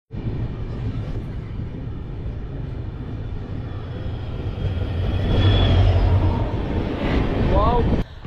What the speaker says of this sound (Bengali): এবার আমাদের ট্রেনের সাথে ক্রসিং হবে শ্রী গঙ্গানগর জংশন থেকে ঋষিকেশগামী